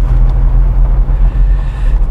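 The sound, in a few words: 1980 BMW M1 sports car engine accelerating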